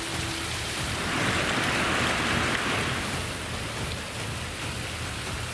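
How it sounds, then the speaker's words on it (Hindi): Torrential monsoon rain pours down in Nepal and Bihar, a dense, steady hiss of downpour that stays loud and unbroken throughout. "ऊपर से तबाही मूसलाधार बरस रही है।"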